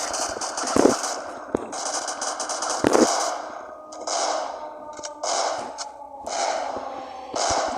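Shotgun blasts from the video game Siren Head Legacy ring out as sharp booms, a few of them spaced several seconds apart amid breathy, hissing bursts of noise.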